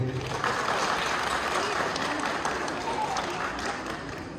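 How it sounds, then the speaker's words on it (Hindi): Crowd applause welcoming party workers, a steady, loud wall of many hands clapping that holds evenly from start to finish with a busy, crowded texture. "आप सब जोर से एक स्वागत की तरफ से आप ताली के साथ स्वागत कीजिए।"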